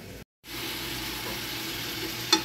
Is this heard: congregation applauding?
no